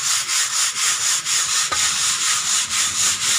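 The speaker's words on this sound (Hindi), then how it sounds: "भूनने के बाद आपने इसको छान लेना है" Roasted wheat being shaken through a sieve, a bright, loud rhythmic swishing rasp that pulses evenly about three times a second from close by.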